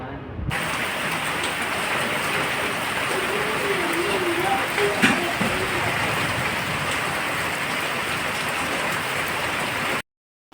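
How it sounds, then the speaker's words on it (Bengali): Heavy rain pours down in a dense, steady hiss throughout, with a muffled voice briefly heard beneath the downpour. "কি জোরে বৃষ্টি এসেছে দেখেছো"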